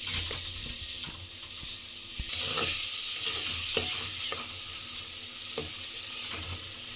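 Tomatoes and green chillies fry in a pan for chicken korma, a continuous close sizzle that grows louder partway through, with intermittent scraping and knocks of a spoon stirring.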